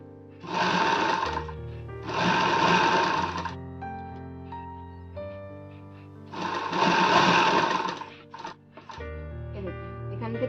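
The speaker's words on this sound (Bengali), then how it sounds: "এইভাবে সমস্তটা সেলাই করে নেব" A sewing machine stitches elastic onto fabric in three loud, even bursts of rapid running, each a second or two long, with quiet pauses between them and a short start at the end.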